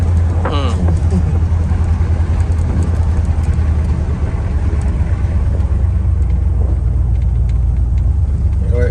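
Car engine running after a carburetor swap, a deep, steady low rumble idling loud and near for the whole stretch, with voices talking faintly over it.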